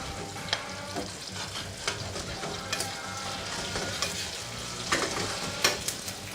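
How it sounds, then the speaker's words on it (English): Tofu frying in a shallow pan for a Vietnamese gumbo gives a steady close sizzle with scattered sharper crackles and pops throughout, no voices. "so this is frying"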